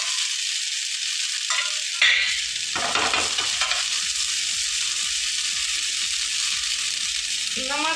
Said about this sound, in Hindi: अब हम स्वीट कॉर्न के से फ्राई करै छी।